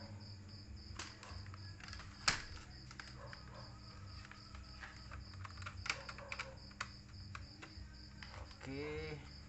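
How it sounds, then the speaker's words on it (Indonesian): Typing on the keyboard of an Acer Aspire 4752 laptop, a scatter of light, irregular key clicks with one sharper tap, set against a steady chirping background like crickets and a faint hum. "keyboard,"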